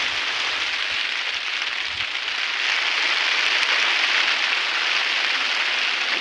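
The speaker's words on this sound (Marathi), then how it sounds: "आता पाऊसच चाला आहे" Steady rain pours down on a farm field, a dense unbroken hiss filling the surroundings without pause, fairly loud and close.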